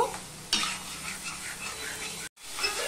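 Ridge gourd stir-fried with salt in a pan: a steady, close sizzle with scraping stirs and a brief clatter, cut by a short silent gap near the end.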